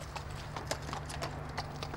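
A city police horse's hooves clip-clopping in a training barn, a steady sequence of hoof strikes on a hard floor, close and clear over a low background hum.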